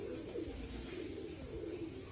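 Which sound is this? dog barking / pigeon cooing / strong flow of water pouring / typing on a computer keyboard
pigeon cooing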